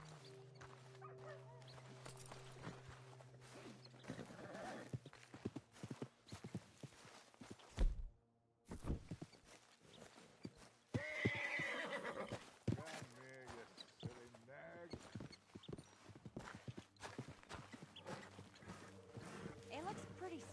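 Horse sounds from Red Dead Redemption 2, a spooked white horse with hooves and whinnying mixed into game music, ambience and talk, with a louder burst near the middle.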